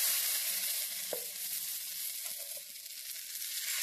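Kalai-lentil (urad) batter for aska pitha sizzles steadily in a hot pan as a second layer is added, a continuous bright frying hiss with a few soft scraping taps, no voices.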